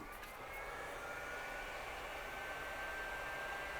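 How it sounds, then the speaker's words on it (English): A hot air rework station blows steadily over a PS5 circuit board during an HDMI port replacement, giving a continuous close-up whooshing hiss that holds at an even level without pause. "We're going to go ahead and heat up the board a little bit"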